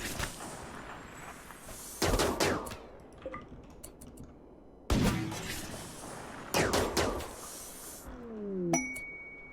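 Gunfire aimed at pirates in RimWorld, heard as several sharp bursts of shots spaced irregularly over a low ambient bed, with small metallic pings and a brief descending tone near the end.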